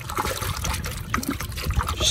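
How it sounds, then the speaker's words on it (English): Water runs into a container for washing an alligator hide before tanning, a close, continuous trickling and splashing that stays steady throughout. "just fill it up with water."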